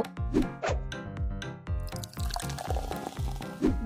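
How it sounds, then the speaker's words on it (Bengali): Water drips and splashes in quick uneven bursts, a small amount being poured onto garden soil, close and fairly soft, with a brief trickling stretch in the middle. "অনেক জল দিয়ে দেব"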